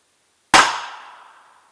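A single sharp report from an Aguila Super Extra .22 LR round fired from a North American Arms mini revolver into a ballistic gel block, a close, loud crack with a short ringing decay and no voices.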